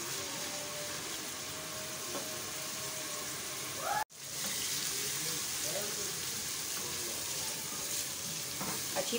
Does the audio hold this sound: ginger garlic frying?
yes